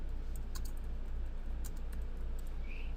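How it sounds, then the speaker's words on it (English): File name typed on a computer keyboard, a quiet run of light key taps over a low steady background hum, no talk. "then type in a name for your file"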